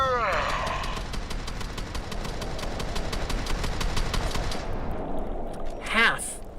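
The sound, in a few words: gunfire emptying a full magazine in Fallout video game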